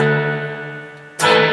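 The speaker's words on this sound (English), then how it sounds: "So I'll turn the reverb on with the foot pedal." A sustained guitar tone is washed through a 1995 Peavey Valverb three-tube reverb processor, ringing and slowly decaying for over a second before a bright new attack bursts in.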